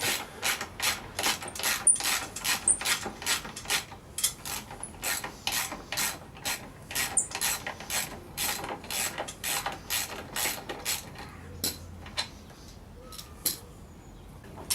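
Mechanical clicking and ratcheting while a brake caliper is removed from the fork of a Yamaha MT-07 motorcycle, with a steady run of close, rapid clicks, like a ratchet wrench working a bolt, fairly quiet with no talking.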